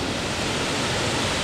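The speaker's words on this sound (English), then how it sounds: "This is Cold Brook Fall" Cold Brook Fall, a small woodland waterfall, rushes in a steady broadband roar throughout the short stretch, close and even in loudness with no other sounds.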